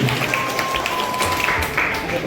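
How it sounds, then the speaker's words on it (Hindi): An audience applauds at a prize distribution ceremony for a Ramayana knowledge competition, a steady patter of clapping from the crowd heard under a loud voice speaking over a microphone. "सभी लोग ताली बजाएंगे"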